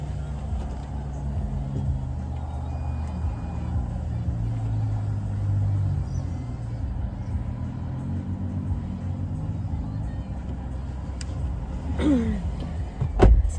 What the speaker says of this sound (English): So that's what I'm doing. I'm at the car wash.